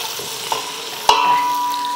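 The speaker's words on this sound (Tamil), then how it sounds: "வெங்காயத்தோடவே முந்திரியும் சேர்த்து நல்லா வதக்கிக்கலாம்" Onions and cashews sautéing in a pan give a steady frying sizzle with a few light clinks and stirring sounds, close and continuous, no voices.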